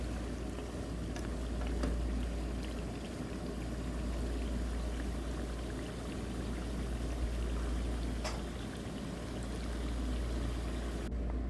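Water, about five cups, poured steadily into a pot of chicken nihari, giving a continuous rushing splash that holds at an even, fairly close level from start to finish with no talking.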